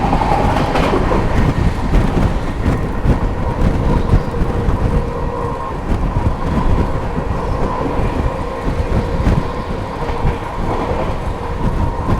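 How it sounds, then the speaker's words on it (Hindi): The Marudhar Express passenger train runs at about 130 km/h, heard from inside as a loud, continuous rumble with rapid wheel clatter and a steady rail hum throughout, with no talk. "ये देख सकते हैं 130 पे अपनी ट्रेन दौड़ रही है।"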